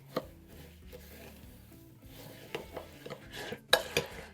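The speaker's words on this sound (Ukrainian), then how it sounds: "Перекладаємо підсушене тісто у фісташкову пасту з білим шоколадом, перемішуємо" A spoon scrapes and knocks around a bowl as dried cookie dough is stirred into pistachio paste with white chocolate, with irregular soft thuds and clicks growing louder toward the end.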